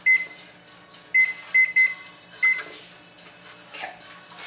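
An oven control panel gives five short, clear electronic beeps while preheating to 400 degrees, in an irregular rhythm over a faint steady hum, with no one talking.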